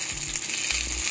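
Cheese apple eggrolls frying in vegetable oil give off a steady, even sizzle with faint crackle throughout, close and continuous, no voices.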